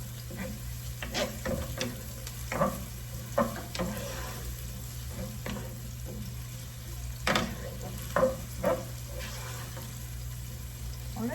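Rice with chopped garlic is stir-fried for vegetable fried rice, giving a continuous low sizzle broken by repeated scraping and tossing strokes of a spatula against the pan, with no voices.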